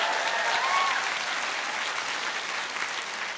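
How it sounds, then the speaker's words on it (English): Live audience applause at a comedy podcast taping in Christchurch, a dense, steady wash of clapping that stays loud throughout before tapering slightly at the end. "Big round of applause for Genevieve Robinson."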